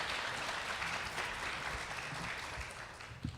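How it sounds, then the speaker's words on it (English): An audience applauds panelists at a live event on surviving domestic violence, a soft, even wash of clapping heard from a distance, steady for a few seconds and then trailing off. "A big round of applause for our group here today"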